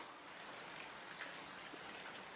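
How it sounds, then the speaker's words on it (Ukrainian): Heavy rain falling in the Dolomites mountains, a faint, steady patter and hiss from a shelter, with scattered drops standing out. "ми почався страшний дощ"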